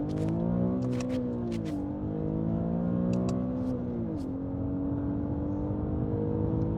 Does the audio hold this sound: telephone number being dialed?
no